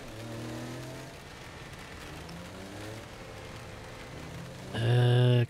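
A stolen car in Saints Row: The Third gives a steady engine hum with shifting pitch, then a sudden loud, harsh horn-like burst near the end.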